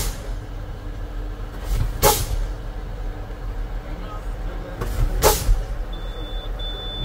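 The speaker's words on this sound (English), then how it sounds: "I will now fan my brakes until my warning light and buzzer come on" Air brakes on a truck are fanned during a pre-trip inspection, with two sharp, loud hissing bursts of released air about three seconds apart over a low idling engine rumble.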